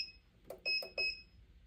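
A heat press timer gives a short series of high electronic beeps, about four close tones in quick succession, clear and fairly near in a quiet room.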